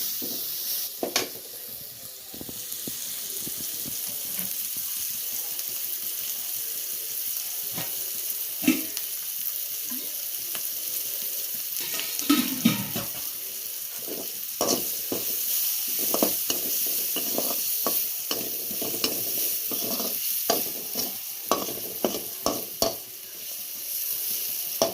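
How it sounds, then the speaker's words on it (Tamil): Onion, garlic, green chilli and curry leaves sauté in a pan for a plantain stir-fry, a steady close sizzle broken by frequent scraping stirs and clinks of a spoon, with no voices. "ஃபஸ்ட்டு வெங்காயம், பூண்டு, பச்சை மிளகாய், கருவேப்பிலை எல்லாத்தையும் போட்டு வதக்கிக்கிறோம்"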